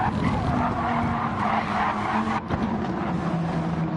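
A GT race car skids around the outside of a right-hander on the grass at Autopolis, with a steady roar of engine and tyre scrub and a brief dip midway.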